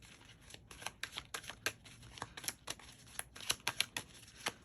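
Tarot cards being shuffled by hand, a run of quick papery riffles and flicks at close range, with no talk over it.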